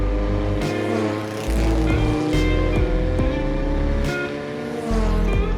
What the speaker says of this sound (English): This is the purpose-built Bertil Roos F2000 race car.